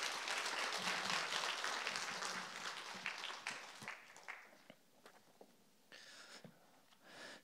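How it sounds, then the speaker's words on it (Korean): A church congregation applauds to welcome a visiting pastor at a Wednesday evening revival service, dense clapping that starts loud, thins out and fades to scattered claps. "우리 박수로 우리 목사님 환영하겠습니다"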